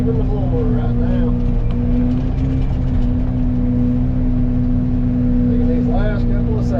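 Excavator fitted with a Fecon mulching head clears an overgrown lot, its engine and spinning head droning loud and steady with a constant hum, while someone talks over the machinery.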